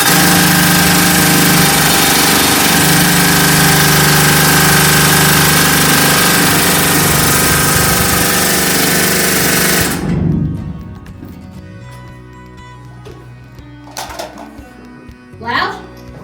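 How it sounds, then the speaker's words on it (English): A drifter rock drill hammers away at rock in the Bendigo gold mine, a loud, dense, continuous pneumatic clatter for about ten seconds that cuts off abruptly, leaving quiet tunnel ambience with a few knocks and a voice. "this one here, this is called a drifter"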